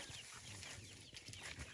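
Native Thai kai lad chickens cluck softly amid a noisy outdoor background, with short low clucks scattered through a steady rural hiss.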